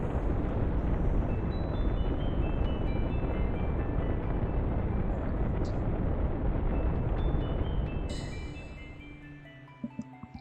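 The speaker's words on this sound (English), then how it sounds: "when things go boom, there's usually an explosion" A loud, broad roar from an explosion in the video game Suikoden III rumbles for about eight seconds, then fades out. A few soft tones and clicks follow.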